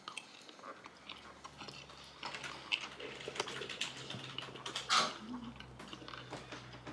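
A bite of buffalo steak is chewed in a close, quiet series of soft, irregular crunchy chews and mouth sounds lasting several seconds, with no talk.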